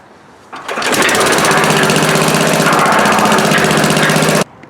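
A small engine powering a concrete mixer, fitted with a replacement starter in place of its removed recoil, runs steadily at close range after a short start-up, a loud even drone that stops abruptly.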